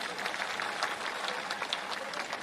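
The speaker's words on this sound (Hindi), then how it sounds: "एक बार मोदी जी के लिए जोरदार तालियां बजाएं" A crowd at a political rally claps in unison, a steady broadband patter of many hands that stays fairly even, heard from some distance at moderate volume.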